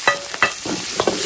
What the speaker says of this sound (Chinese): 配料下锅